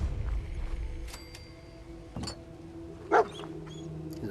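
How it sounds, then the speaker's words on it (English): Dogmeat, the dog companion in Fallout 4, gives a short bark near the Red Rocket truck stop, one brief yip standing out over quiet game ambience and distant tones. "He's a good little dog."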